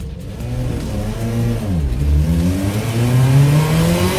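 A Group B rally car engine revs hard close by, its pitch dipping briefly then climbing steadily as it accelerates, loud and continuous with no talk over it.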